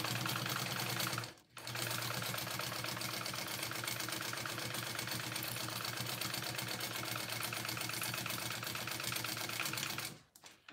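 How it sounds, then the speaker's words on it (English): A sewing machine runs steadily, stitching a half-inch seam on a fabric barrel bag, with a fast even mechanical chatter that stops briefly near the start and again at the end. "we are sewing this at a half inch seam allowance"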